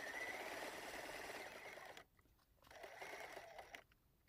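A sewing machine stitches fusible applique around the tip of a quilted teapot spout, a steady close mechanical whirr that pauses briefly twice as the fabric is turned, then resumes.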